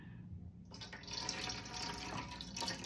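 An oil mixture for a liquid pomade hair oil poured through cheesecloth, a steady quiet trickle of liquid that begins abruptly and continues with faint dripping splashes.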